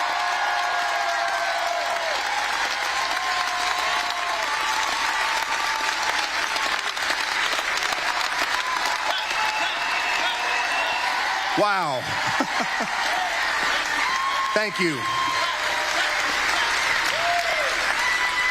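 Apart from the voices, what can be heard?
rally crowd applauding and cheering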